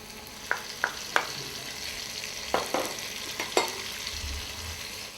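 Onion, parsley and garlic frying in a pan, a steady sizzle with several sharp crackles and pops scattered through it, close and moderately loud, with no talking.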